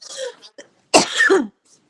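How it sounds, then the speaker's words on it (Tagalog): A person coughs once, loud and rasping at close range, after a few quiet murmured sounds. "Ubo ako ng ubo."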